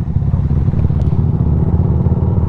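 A Yamaha R125 motorcycle engine idles and revs steadily up close, a loud continuous throaty drone with no talking.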